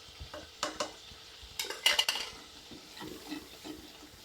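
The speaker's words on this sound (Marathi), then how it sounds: "त्याच्यामध्ये आपण दुसरे मसाले टाकूया." Misal masala, coriander powder, garam masala and red chili powder are stirred into masala frying in a pan, giving a steady close sizzle under scraping spoon-on-pan strokes and a few sharper metallic clinks.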